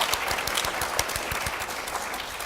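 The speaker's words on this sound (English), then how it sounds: "One more round of applause." Audience applause at a Sigma Theta Tau International chapter chartering and induction ceremony, a dense steady round of clapping from a crowd with sharp individual claps standing out near the front, continuing evenly throughout.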